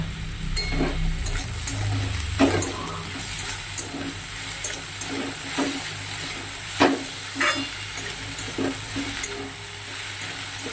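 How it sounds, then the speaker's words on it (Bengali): Vegetables with a little sugar frying lightly in a pan, a soft steady sizzle broken by repeated scraping stirs of a spatula at close range, no voices. "এবার একটু হালকা ভাজা ভাজা হবে, তারপর আমি নামিয়ে নেব"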